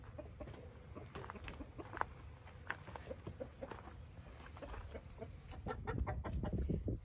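Several chickens cluck and murmur steadily around a watering and dust-bathing area, close by, with scattered louder clucks and scratchy shuffling that grows a bit busier toward the end; no talking.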